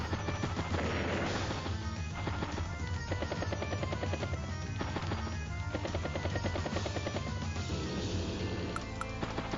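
Game combat effects from a helicopter unit attacking in Advance Wars: Days of Ruin, a dense, loud barrage of crashing and gunfire-like blasts layered over continuous game music throughout.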